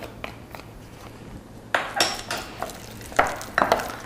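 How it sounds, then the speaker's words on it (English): A spoon mixes mashed banana into cream cheese in a bowl, making soft irregular scraping and tapping against the dish, with a few sharper clinks in the second half. "I'm actually going to resort to a spoon for the rest of the mixing."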